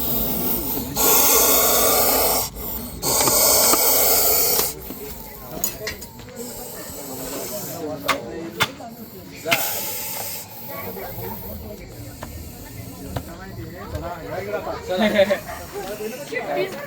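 A Russell's viper rescued from a wall gives several loud, sustained hisses, two long bursts early on and then shorter hisses, with someone talking over and between them.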